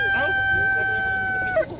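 A purebred Kuchin rooster at an Almaty bird market crows once, a sustained, clear cock-a-doodle-doo at moderate distance, over a faint crowd murmur.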